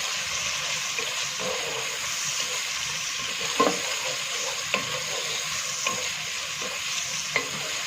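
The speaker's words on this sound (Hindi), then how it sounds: "आप इसमें प्याज डाल देंगे। प्याज को हम गोल्डन फ्राई कर लेंगे।" Onions fry in very hot oil for a beef yakhni pulao, making a constant loud hiss. Occasional spatula taps and scrapes come through as the pan is stirred, and nobody speaks.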